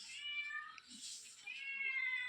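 A cat meows repeatedly outdoors near a mulberry tree, drawn-out high cries close to the listener with a brief pause in the middle and no talking.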